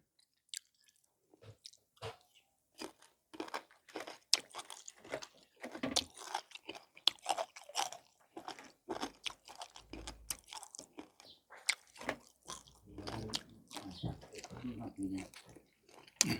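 Close, wet crunching and chewing of a fish head being eaten, with irregular bites and mouth sounds through most of the stretch, and a few soft voices speaking briefly in between.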